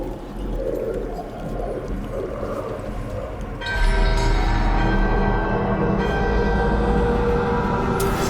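A magical bell is woken during a ritual in the video game Dragon Age: Dreadwolf. About midway, loud, sustained metallic ringing tones swell up and hold over the steady rumble of the game's ambience.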